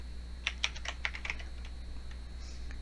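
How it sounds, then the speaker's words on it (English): Someone types code on a computer keyboard: a quick burst of about half a dozen crisp key clicks in the first second and a half, then near silence with faint room hum. "after that I'm going to type in period get"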